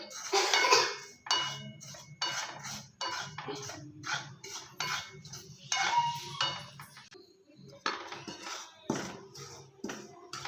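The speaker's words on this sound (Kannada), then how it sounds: "ಇವಾಗ ಕಡಾಯಿಗೆ ಅಕ್ಕಿ ಹಿಟ್ಟು ಹಾಕ್ಕೊಳ್ಳೋಣ. ಚೆನ್ನಾಗಿ ಒಂದು 4-5 ನಿಮಿಷ ಅಕ್ಕಿ ಹಿಟ್ಟು ಹುರ್ಕೊಳ್ಳೋಣ" Rice flour being dry-roasted and stirred in a kadai for crispy kodubale, with a spoon scraping and clinking against the metal pan in repeated strokes, close and moderately loud, with no talk.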